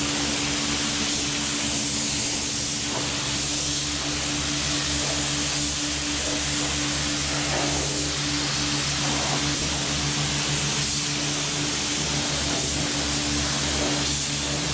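A paint spray gun lays down sealer with a steady, loud hiss that runs without pause over a constant low mechanical hum, with no talking.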